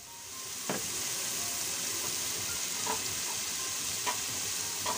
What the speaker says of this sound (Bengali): এর জন্য পেঁয়াজ বেরেস্তা করে নিচ্ছে